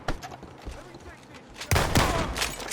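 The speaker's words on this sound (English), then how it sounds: "That was a long shot with a shotgun right there." Shotgun fire in Red Dead Redemption 2 Online during a legendary bounty, a couple of sharp distant reports early on followed by a louder burst of gunfire near the end, with someone talking over it.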